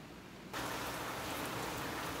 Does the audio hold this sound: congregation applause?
no